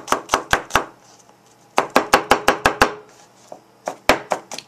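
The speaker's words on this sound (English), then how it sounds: "and I chop that much garlic, that is good for me" A knife chops garlic on a cutting board for a Tibetan chicken dish, giving sharp, close knocks in quick bursts of four, then seven, then a few more, separated by short pauses.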